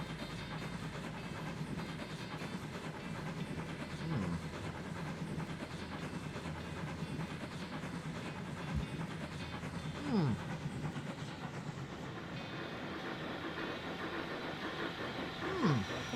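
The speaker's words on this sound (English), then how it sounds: "enjoy that lovely little chugga sound as that train makes its way northward" A steam locomotive from the 1860s era in Transport Fever 2 chugs steadily under a broad rumbling background, with a few faint whistle-like sweeps rising through it.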